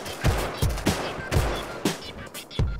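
Repeated AK rifle fire in the survival game Rust: several sharp, loud shots spaced irregularly, roughly one every half second, with a clean, close report and short decay.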